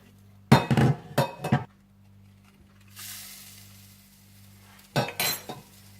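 Oil is poured onto a hot coal set in a pot of coal-smoked butter chicken, and the pot is then covered with its lid. Metal clinks and clanks come first, then a soft, brief hiss, then another cluster of lid clatter.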